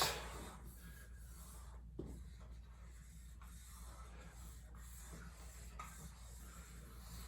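Pencil drawing a hand on paper, soft continuous scratching and rubbing strokes with occasional light taps, faint and close over a steady low background hum, no speech.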